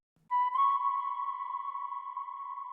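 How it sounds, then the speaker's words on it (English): A flute-like synth lead from SRX Orchestra in FL Studio holds one sustained note, pure and airy with a heavy reverb wash. It enters after a short low blip and rings on alone at moderate volume. "figured it out to be kind of like a flute with a lot of reverb on it"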